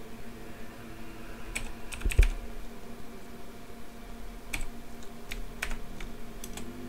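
Keystrokes on a computer keyboard while working in a Linux system, sparse and irregular taps with gaps between, one sharper clack near the middle, close and alone over a faint steady hum.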